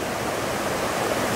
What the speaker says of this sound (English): Look at that river, being all happy about that rainwater.